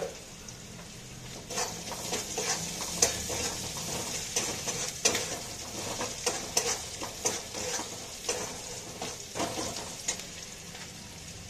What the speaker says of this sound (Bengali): এই দেখো পেঁয়াজটা ভাজা হচ্ছে